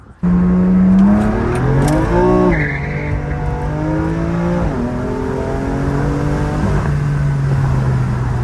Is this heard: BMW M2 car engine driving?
yes